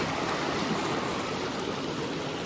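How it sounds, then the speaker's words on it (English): Stiller Creek on the Pacific Crest Trail rushes in a steady, close, broadband wash of flowing water, loud and unbroken with no voices. "this here is Stiller Creek."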